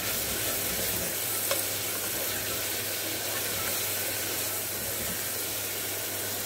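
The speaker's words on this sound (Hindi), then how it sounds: "हमारा प्याज लाल हो चुका है, अब हम इसमें टमाटर डाल देंगे।" Onions and tomatoes sizzling in a pan while cooking dal palak, a steady, close hiss of frying with faint stirring, continuous and without talk.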